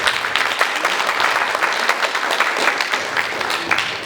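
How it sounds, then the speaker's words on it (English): An audience applauds after a piano masterclass, a steady, full round of clapping that holds at an even level throughout without pause. "Our applause."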